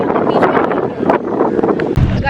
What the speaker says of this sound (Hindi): लेकिन थोड़ी हवा चल रही तो अच्छा लग रहा है।